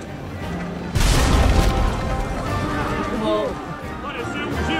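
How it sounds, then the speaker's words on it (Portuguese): A heavy booming cannon blast erupts suddenly amid Assassin's Creed Unity game sounds, followed by rumbling and scattered noise while a voice talks over it. "Apareceu um tiro de canhão."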